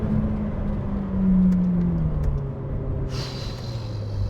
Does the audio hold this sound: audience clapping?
no